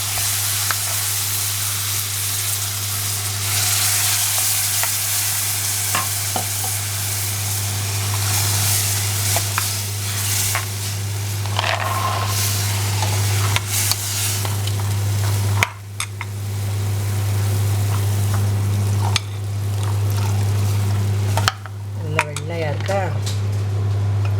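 Onions and masala sauté in a hot pan for butter beans poriyal, a continuous close sizzle with occasional scrapes and clinks of a spoon against the pan under a steady low hum.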